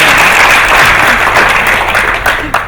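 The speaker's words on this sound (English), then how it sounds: "Please give me a warm welcoming, a warm applause." Sustained applause from a conference audience in Beijing greeting a speaker taking the stage, steady and loud throughout, thinning slightly toward the end with a couple of final sharp claps.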